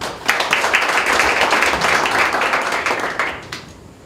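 Audience applause at a high school taekwondo poomsae team founding ceremony, welcoming an education office official to give congratulatory remarks; a burst of clapping that swells, holds, then fades out.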